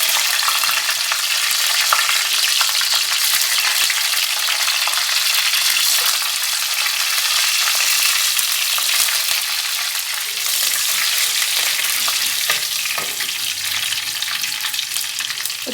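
Mustard seeds and chopped dried chillies fry in hot oil, giving a steady bright sizzle with scattered crackles and pops, close up and unbroken, with no talking.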